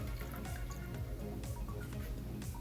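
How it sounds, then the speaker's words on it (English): Water trickles and splashes into a pot of herbs and ground cardamom, a steady soft pour with light dripping, quiet and continuous for a few seconds. "Three-quarter cups of water was added to the herbs"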